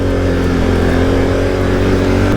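A Can-Am Outlander G3 LTD all-terrain vehicle engine held at full throttle in mud and rain, giving a loud, constant droning roar close by with no letup and no speech.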